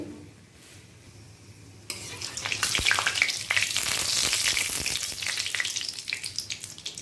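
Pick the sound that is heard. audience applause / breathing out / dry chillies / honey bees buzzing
dry chillies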